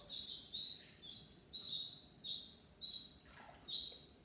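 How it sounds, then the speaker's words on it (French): Seven newborn baby birds chirp indoors, a faint series of short high-pitched peeping calls repeating roughly every second or so, with no voices. "Il y a 7 petits oiseaux qui viennent de naître et donc du coup on les garde à l'intérieur."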